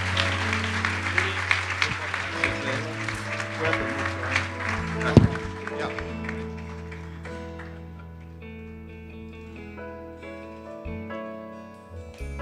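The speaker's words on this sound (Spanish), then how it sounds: "¿Por qué no le doy un fuerte aplauso al Señor que nos salvó y que nos salva?" Congregation applause for the Lord during a church gathering, a dense wash of clapping that gradually thins and gives way to sustained keyboard music.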